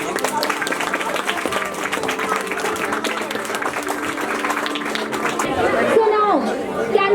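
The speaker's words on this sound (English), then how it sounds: "let's all give a big clapping for Ayush." Crowd at an annual school celebration applauding a student, steady clapping mixed with chatter and babble throughout, growing a little louder near the end.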